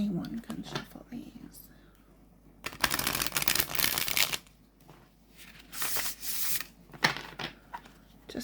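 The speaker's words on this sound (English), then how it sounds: "If I can shuffle these, anyone can shuffle these." Gentle Tarot linen-finish tarot cards of flexible stock being shuffled overhand, with soft riffling bursts and papery flutters that come and go in several close, fairly loud passes.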